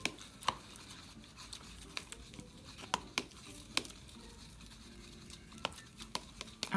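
A paint, sugar and water bubble mixture is stirred in a container, making soft scraping swishes broken by sharp little clicks and taps of the utensil against the sides, close and quiet, with no voices.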